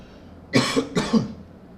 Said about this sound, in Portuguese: eu vou tossir.